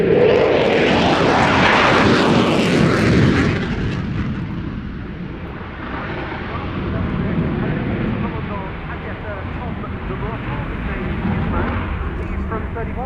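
Belgian Air Component F-16 fighter jet from 31 Squadron, 10 Wing at Kleine Brogel, performing at an air show: a loud jet roar at first that fades to a distant rumble while a voice talks over it.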